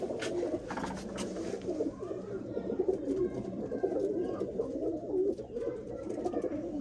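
Pigeons coo steadily in a low, murmuring chorus, several birds close by with soft overlapping calls.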